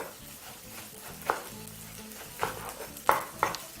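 Cabbage and minced meat sizzle in a pan as they are tossed and stirred together, with a continuous frying hiss broken by several sharp scraping clicks of a utensil.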